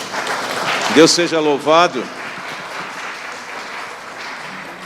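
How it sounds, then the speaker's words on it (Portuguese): A church congregation claps in a short burst after a baptism, while someone speaks over the applause at the start before the room settles into a quieter murmur. "Vamos dar uma salva de palmas?"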